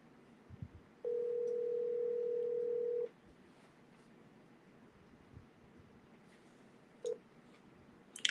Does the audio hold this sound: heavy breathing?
no